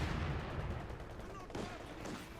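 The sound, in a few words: gun firing in a war strategy video game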